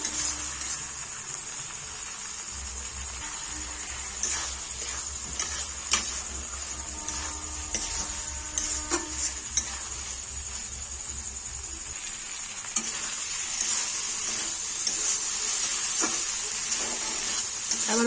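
Boiled peas and chicken mince sautéed in a pan for chicken ghugni, giving a soft, continuous sizzle with scattered ticks and scrapes from stirring and a low hum under the first part.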